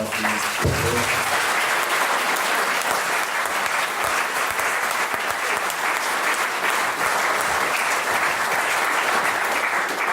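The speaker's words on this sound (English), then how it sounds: "So I just please give it up a round of applause." Sustained applause from an audience at a Startup Grind Buffalo event, steady dense clapping that stays loud and even throughout, with no talk over it.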